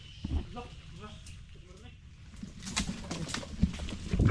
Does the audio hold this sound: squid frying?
no